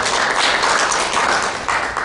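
Applause from an audience at a policy forum on arts for disabled children: a dense, steady wash of clapping that holds at a fairly loud level for the whole stretch, with no voices over it.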